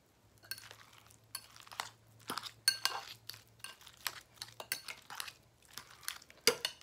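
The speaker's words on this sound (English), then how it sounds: "Just get to mixing." A spoon mixes guacamole in a bowl, with irregular clinks and scrapes of utensil against the dish over a faint low hum and no voices.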